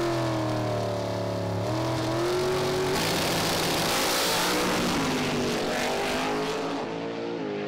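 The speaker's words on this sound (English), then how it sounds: "It's a close race, but David Vegter prevails." Drag race cars in FIA motorsport roar down the strip, loud and steady, their engines climbing in pitch through each gear change before the sound fades into a rushing whoosh.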